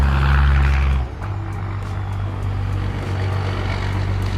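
A loud truck rumbles past on a street, a heavy low roar for the first second that drops abruptly to a softer, lingering engine rumble as it moves away.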